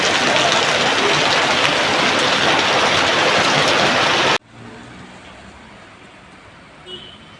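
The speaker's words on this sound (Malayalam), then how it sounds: "അടിപൊളി മഴ അടിപൊളിയായിട്ട് തിമിർത്ത് പെയ്യുന്നുണ്ട് നല്ല മഴയാണ്" Heavy rain pours in a dense, loud hiss, then cuts abruptly to a much quieter background with faint ambient noise.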